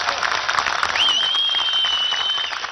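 Crowd applause during a BTP party leader's speech at an Abdal Musa Sultan commemoration event: sustained clapping with a whistle-like tone rising and holding over it, fading slightly at the end.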